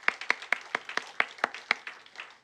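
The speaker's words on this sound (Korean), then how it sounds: "박수 한번 하겠습니다." A church congregation at a Sunday worship service claps in a brief round of applause: distinct, evenly spaced claps that carry well in the room, with no talking over them.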